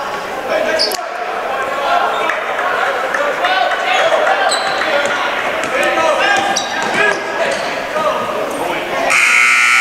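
A busy gym at a high school varsity boys' basketball game, with squeaks, bouncing and crowd noise, then an electronic buzzer sounds loudly near the end.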